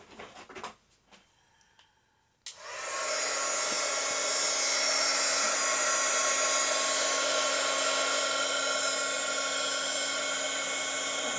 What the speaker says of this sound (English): So I'm going to hit it with the heat gun.